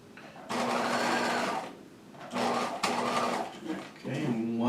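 A sewing machine stitches around the corner of a jacket collar in three short runs separated by pauses, fairly quiet and close, with a soft voice in the gaps.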